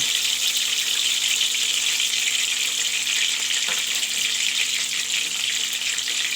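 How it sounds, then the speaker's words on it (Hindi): Fish pieces frying lightly in hot oil for a masala fish curry, giving a steady, fairly loud hiss and crackle that holds evenly throughout with no talk. "अब हम इसमें अपने जो है फ़िश को हल्का सा बस फ्राई करना है"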